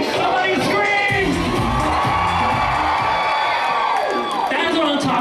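Crowd at a cruise ship party screaming and cheering loudly, a dense wall of shouts and whoops close by, with a voice over it.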